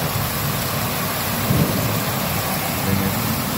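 Heavy rain pours steadily through a severe thunderstorm under a tornado warning in Temple, Texas, with low rumbles of thunder swelling briefly twice amid the constant wash of rainfall.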